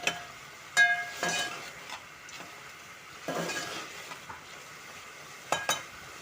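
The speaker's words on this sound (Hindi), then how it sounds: "अब हम इसे भून लेंगे पराठा रोल के लिए ना, इसे अच्छी तरह से हम भून लेंगे।" Chicken is stir-fried in a pan for paratha rolls: a soft sizzle under several distinct scraping and clinking strokes of a spoon against the pan, spaced irregularly and fairly close.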